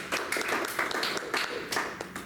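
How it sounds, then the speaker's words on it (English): Audience applause for a presenter after a group report in a class session, a dense burst of many hands clapping at close range that carries on steadily without any talk. "Can we give a round of applause to Madalyn?"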